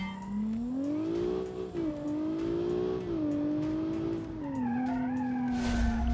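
A Super Minivan accelerates hard with traction control off, its engine droning loud and close with a rising, wavering pitch and exhaust roar throughout, without speech.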